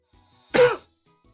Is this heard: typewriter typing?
no